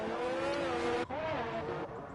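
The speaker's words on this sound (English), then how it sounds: "As we see all the cars going out on their outclaps now." Formula 1 cars in a video game heading out on their out-laps around the Monaco street circuit, a steady engine whine with rising and falling pitch, briefly cut off midway and resuming, close and loud throughout.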